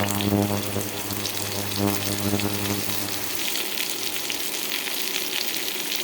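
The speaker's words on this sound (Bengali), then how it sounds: "এখন এখানে আমি মিষ্টি কুমড়াটা কেটে ধুয়ে রেখেছিলাম, সেটাকে দিয়ে দিলাম" Loud, continuous sizzling as pumpkin pieces drop into a pan of browned onions and fry, with a low bubbling hum early that fades, leaving a bright crackle.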